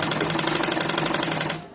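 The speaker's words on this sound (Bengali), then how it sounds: "এই যে দিলাম সেলাই" A sewing machine stitches a salwar seam at close range, a steady rapid mechanical rattle that runs loud and even before slowing to a stop at the end.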